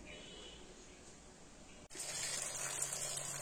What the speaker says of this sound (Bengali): এখন শাকটা ধুয়ে নিচ্ছি